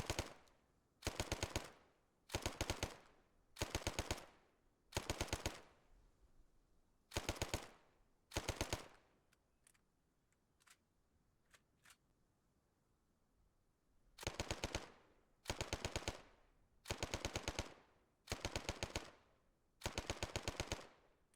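A Sten Mark II submachine gun in the Arma 3 video game fires repeated short automatic bursts, about a dozen sharp rattling volleys separated by brief pauses, with a lull in the middle.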